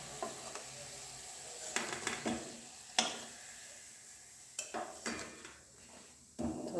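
Onion pakoras frying in hot oil, with steady sizzling and bubbling underneath several sharp clinks and scrapes of a utensil against the pan as pieces are stirred and lifted out.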